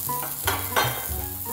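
Eggs and sausage fry on a griddle with a close, steady sizzle, broken by a few scraping stirs and short bursts of louder hissing, with no talking.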